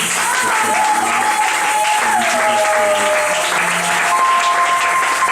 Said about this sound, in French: Et je veux que tu acclames le Seigneur, que tu acclames Dieu.